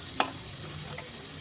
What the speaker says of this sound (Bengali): এবার আমি এপিট ওপিট করে ভালো মতো উল্টিয়ে মোগলাইগুলো আমি ভেজে নেব।